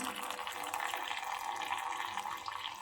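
Steady splashing and trickling of water as a dupatta is twisted and squeezed during colour removal, a continuous wet dripping sound close by with no talking.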